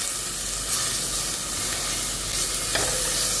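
Chopped onions sizzle in hot oil in a pan for minced meat, a steady bright crackling hiss with light stirring scrapes running throughout.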